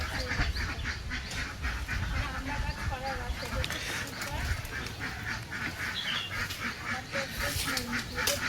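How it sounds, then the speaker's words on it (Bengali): Ducks quack and honk continuously by a village pond as they move into the water, a busy flock heard at moderate distance over outdoor background noise, with some voices mixed in. "এই হাঁসগুলো সব জলে নেমে গেল"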